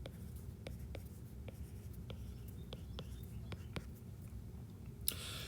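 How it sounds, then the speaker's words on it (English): A pen writes letters by hand on paper, producing soft, quiet scratches and taps in short strokes over a low steady background hum, with a brief louder rustle at the end. "I'm going to write them down"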